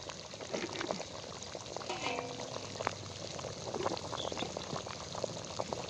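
Crab curry (spicy stuffed crab rassa) simmers in a pot with soft, steady bubbling and faint liquid burbles, low in level and continuous throughout.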